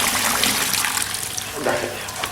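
Water poured over an arowana during gill cover surgery, a steady broadband splashing wash running throughout at close range, with a brief louder surge near the end.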